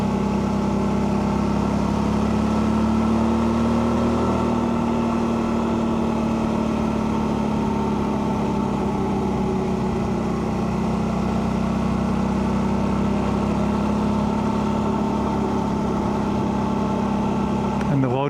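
A motorcycle engine drones steadily at around 4,500 RPM in fifth gear on a mountain test ride, a constant close hum under wind noise for the whole stretch.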